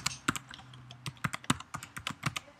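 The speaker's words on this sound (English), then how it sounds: "So type in temperature." Someone types on a Mac computer keyboard, a quick irregular run of close, crisp key clicks with short pauses between bursts, no voices.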